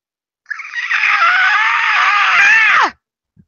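A single long, loud shrieking screech rises abruptly, holds harsh and strained for over two seconds, then drops sharply in pitch and cuts off into silence, sounding like a voice imitating a monster's cry.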